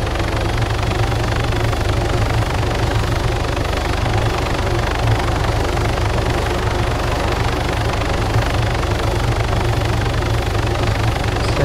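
Helicopter engine in the Arma 3 Alpha video game, a steady, loud rotor-and-turbine drone with a low throbbing pulse that runs unbroken throughout, with no voices.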